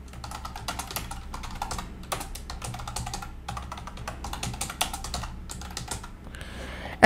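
Typing on a computer keyboard, a quick run of light clicking keystrokes in irregular bursts, close and moderately loud, with no voices.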